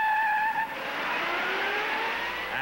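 Vintage Chevy II six-cylinder racing a full-size Ford Galaxie V8 in the desert, a rising engine drone as the cars accelerate away, steady and moderately loud with no talk.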